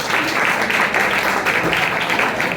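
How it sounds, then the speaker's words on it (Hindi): An audience at a coaching institute prize distribution applauds a Class 12 board exam topper, steady, close and dense clapping that holds at an even level throughout. "साहिना परवीन के नाम पे एक बार तालियां"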